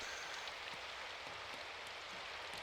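Steady, even rain hisses throughout a scene in the visual novel game Symphonic Rain, soft and continuous with no voices.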